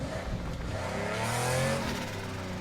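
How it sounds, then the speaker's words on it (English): A Lamborghini Countach engine in the video game Need for Speed Heat roars steadily and revs up with a rising turbo whine, loud and close throughout. "Oh, those turbo noises."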